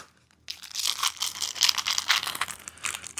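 A taped package of bolts from a hydraulic barber chair box is cut and torn open, giving close, loud crinkling and ripping of tape and plastic that starts abruptly and continues in uneven bursts.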